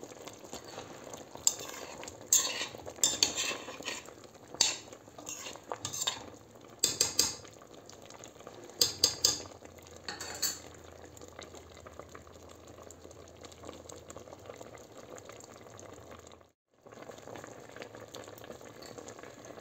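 Melon jam bubbling in a pot as it thickens, with steady low simmering noise broken by sharp spoon clinks and scraping against the pot, then a brief dip near the end.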